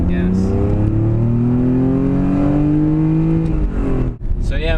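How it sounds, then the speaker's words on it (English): A BMW E46 fitted with a cheap eBay exhaust header accelerates hard on a test drive, its loud engine note climbing steadily in pitch as it revs up from inside the car, easing off briefly near the end. "Let's go for a test drive and listen to what the header sounds like."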